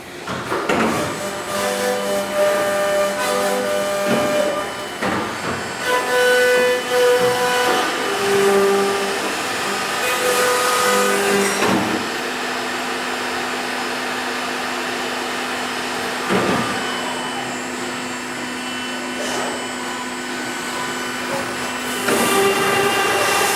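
A 990-APEX machine going through its start sequence gives a steady loud mechanical whirr and hum with tonal whines that shift, plus a few sharp clunks along the way, close and continuous with no voices.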